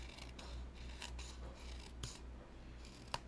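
Paper envelopes trimmed with a cutting tool: a few quiet, scratchy snips and rasping strokes, close by and fairly faint against a low steady hum, with no talking.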